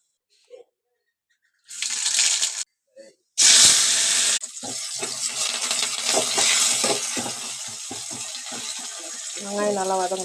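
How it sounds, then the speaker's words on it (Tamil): Onions sauté in hot oil in a kadai while a tomato thokku is cooked, a loud hissing sizzle that flares up and then settles into a steady crackle, with short quieter gaps and clatter at the start. "வெங்காயம் நல்லா வதங்கணும்."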